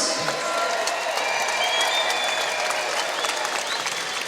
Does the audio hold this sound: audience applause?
yes